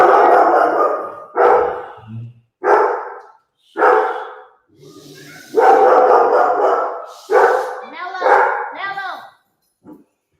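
An agitated dog barks in a series of loud, close barks and growls indoors, several separate bursts with a longer growling stretch in the middle, while a person talks to it.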